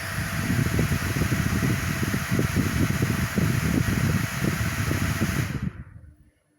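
Cooling fans of a solar inverter run with a steady close whooshing hum and a faint tonal whine, then spin down and stop near the end, leaving silence.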